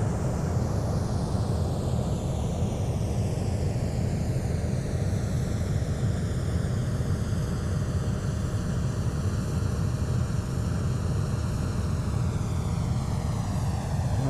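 A Boeing 737-300 of Boliviana de Aviación with a landing gear failure flies in a flight simulator near El Alto International, its jet engines giving off a steady, loud whooshing drone with a slowly shifting whine.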